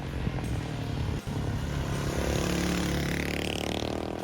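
A Suzuki DR650SE motorcycle engine running, a steady mid-pitched rumble with a slight rise in revs toward the end, close and fairly loud, no voices.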